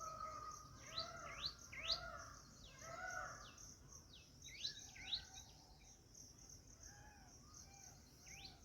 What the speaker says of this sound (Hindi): चिड़ियों की आवाज़ आ रही है